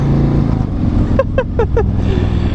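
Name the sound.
Harley-Davidson CVO motorcycle engine while riding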